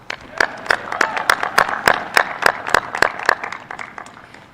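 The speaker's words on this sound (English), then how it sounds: "Another round of applause," Sparse, distinct hand claps from a socially distanced audience at a United States Air Force Academy graduation, a steady run of separate sharp claps over several seconds, moderately loud.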